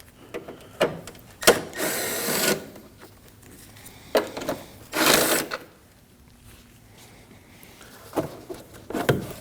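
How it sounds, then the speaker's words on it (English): A ratchet backs out 10mm bolts on the air duct of a 2003-2006 Subaru Baja 2.5L H4, with short bursts of quick clicking and louder rasping pulls between scattered close taps of metal. "We have two 10mm bolts that we need to remove in order to remove the beginning of our air duct."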